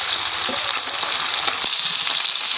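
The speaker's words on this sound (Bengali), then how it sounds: "মাছগুলো ভেজে নিচ্ছি" Fish fry in hot oil in a home kitchen pan, giving a loud, steady sizzle and crackle with a few faint stirring clicks, and no voices.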